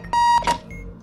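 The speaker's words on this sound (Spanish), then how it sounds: "fíjate el despertador" An alarm clock in Keep Talking and Nobody Explodes gives a loud, sharp electronic beep, then a second shorter beep, close and alone.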